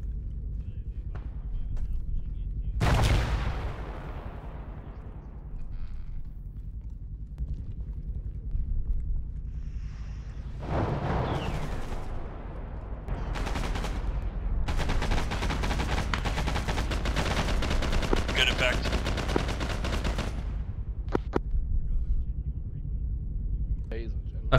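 Gunfire in a military shooter game, with several sharp bursts and a long stretch of rapid automatic fire, fairly close and loud, under a steady low rumble of battlefield noise.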